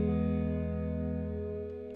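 One sustained electric guitar chord rings out through a Fender Deluxe Reverb amp with the room sound turned up, slowly decaying with a warm, lingering tail.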